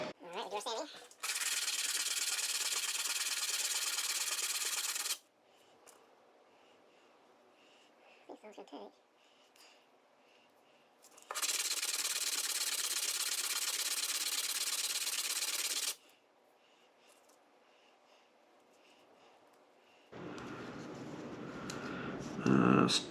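Sanding a bourbon barrel oak ring for a tight epoxy fit: two long bursts of steady, close, rasping abrasion about four and five seconds each, separated by quiet pauses with faint handling noise, ending in rougher, bassier rubbing.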